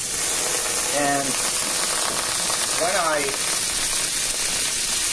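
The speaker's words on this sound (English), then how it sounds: "Right now I'm melting down my margarine here." Margarine melts in hot oil in a frying pan while cooking chicken fried steak, giving a steady, even sizzle and crackle throughout, with a voice briefly talking over it.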